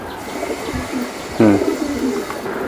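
New adult racing pigeons coo at a loft, with one clear, close coo rising over a steady background hiss and faint bird calls.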